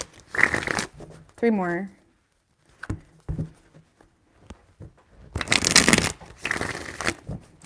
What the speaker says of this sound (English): 4 shuffles for Capricorn